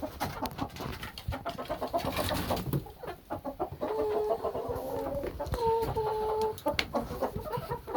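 Chickens clucking in a backyard coop with a perch, nesting box and feeder, a busy chorus of close clucks and short squawks mixed with scratching and rustling, fairly loud and continuous.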